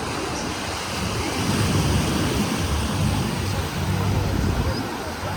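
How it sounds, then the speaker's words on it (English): Sea surf at the shallow beach beside the canal at Barra da Lagoa, Florianópolis, Brazil, rolls as a steady broadband wash with wind buffeting the microphone and faint traffic behind. "Plus the sea here next to the canal, it's"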